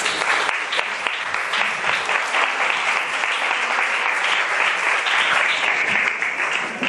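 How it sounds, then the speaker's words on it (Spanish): Audience applause at a talk on paranormal encounters, dense steady clapping from many hands filling the whole stretch at close range, with no voices over it. "un aplauso"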